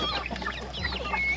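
Broiler chickens on a farm clucking close by, with several overlapping short clucks and chirpy calls in a busy, continuous flock chatter and no talking.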